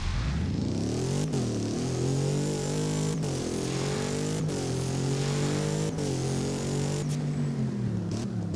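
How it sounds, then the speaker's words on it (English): A car engine in Roblox Driving Empire drones steadily on the road, close and continuous. The pitch climbs through each gear, then drops abruptly at regular shifts, about six times over the run. "now here's the car driving on the road"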